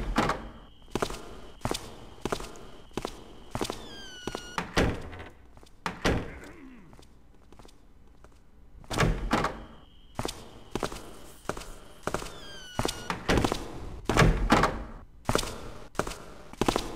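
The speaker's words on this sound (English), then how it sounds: "When he leaves again, I'll shut that door." A door being shut in the video game Ghost Thief 2: repeated soft footsteps and dull thunks in a quiet interior, with a brief lull before more steps and a thudding knock.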